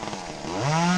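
Chainsaw during tree-climbing arboriculture work, its engine revving up within a second from a rough idle to a loud, steady high-pitched whine, close by with no talking.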